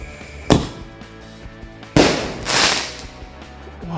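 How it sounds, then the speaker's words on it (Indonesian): Launched ball firecrackers set off for an Indonesian Independence Day celebration: two sharp, loud bangs about a second and a half apart, each followed by a fizzing, crackling hiss. "ini yang selanjutnya kita nyalain mercon bola pelontar ya"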